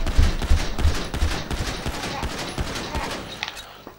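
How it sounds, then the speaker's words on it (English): Combat pistol shots fired at a tank in GTA V crack in a quick, irregular string of sharp reports, fairly close and loud, tapering off at the end. "Let's try number two, combat pistol."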